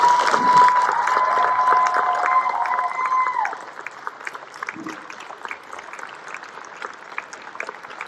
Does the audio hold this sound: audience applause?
yes